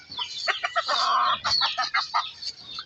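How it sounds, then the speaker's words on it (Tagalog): Backyard pet chickens cluck close by in quick, choppy bursts while being fed, with one longer drawn-out call in the middle. "mga alagang manok niya"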